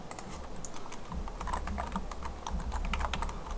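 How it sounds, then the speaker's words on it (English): Steady, fast keystrokes on a computer keyboard as an SQL insert command is entered, a continuous close clatter of key taps with no talking. "So let's go ahead and type that in"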